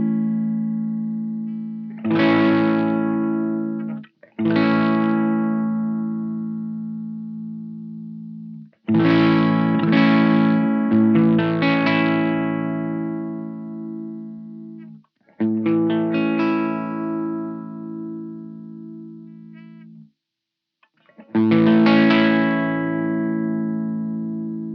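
An electric guitar runs through a Blackstar Dept 10 tube boost pedal with its low and high EQ being turned, playing loud ringing chords and phrases in separate bursts that sustain and decay, separated by short gaps.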